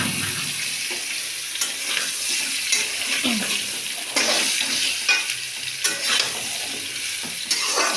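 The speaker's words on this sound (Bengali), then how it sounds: "আলু আর বেগুনটা তেলের মধ্যে দিয়ে দেবো" Potatoes and eggplant fry in hot mustard oil, a loud continuous sizzle with repeated scraping strokes of a spatula stirring the vegetables, no voices.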